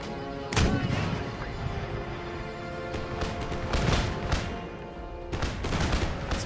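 Howitzer artillery fire in Empire Total War during a siege defence: repeated heavy booms and cannon blasts over a constant rumble of battle, with loud impacts near the start and again in the middle and late parts.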